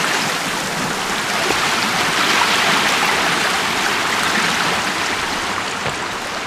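Steady rushing of a river and waterfall in the video game Sons Of The Forest, a loud, continuous broadband roar heard with no talking.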